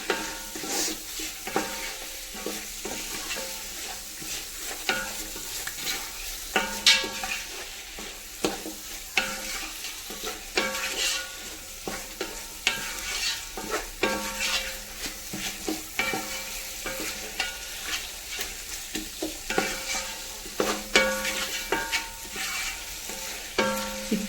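Chicken coated in masala sizzles steadily in a pan while a spoon scrapes and stirs in frequent rhythmic strokes, close and moderately loud, with no talking.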